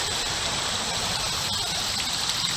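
Creek water flowing in a steady, close rushing hiss, unbroken and even throughout with no voices.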